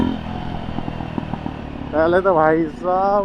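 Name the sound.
Jawa motorcycle exhaust sound with new silencer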